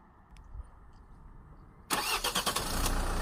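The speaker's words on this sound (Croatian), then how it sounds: "Evo ga, auto je upalio." A car engine cranks and catches after a remote start through the central-locking key, the first near-silence giving way to a loud surge of revving before settling into a steady idle.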